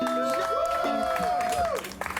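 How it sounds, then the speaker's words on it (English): A comedy show audience at Mystery Train in Amherst, Massachusetts cheers and applauds loudly, whoops and a sustained whistled or sung tone riding over steady clapping before the noise drops away near the end. "the biggest cheer of the night"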